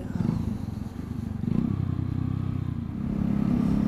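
A Honda Shadow 150 cruiser motorcycle being ridden on the road, its small engine giving a steady low droning hum with faint clatter, close and continuous.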